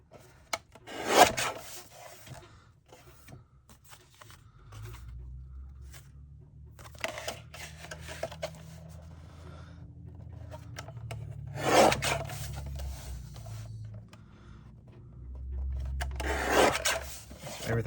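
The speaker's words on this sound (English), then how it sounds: "I'm going to trim this down to make sure it's the right size." A paper panel for a handmade card is trimmed on a paper trimmer in three short scraping swipes, spaced apart over a low background hum.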